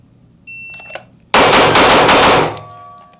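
Staccato P4X pistol firing a rapid string of six shots, loud sharp cracks bunched closely together in about a second, with a few quieter clicks and knocks just before.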